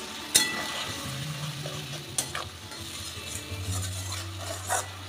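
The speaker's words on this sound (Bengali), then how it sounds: "এবার এই আদা রসুনটাকে অল্প একটু কষিয়ে নেব।" Ginger-garlic paste fries in a pan for coconut rice, sizzling steadily while a spoon stirs and scrapes, with a few sharp clinks of the utensil against the pan.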